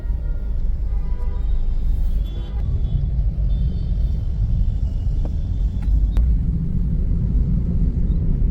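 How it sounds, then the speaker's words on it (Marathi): Heavy road traffic in a jam near Bhiwandi gives a dense, continuous low rumble of engines and tyres, loud and steady throughout with a few faint higher tones, and no one talks. "आवाज जरा आला जाम ट्रॅफिक होती"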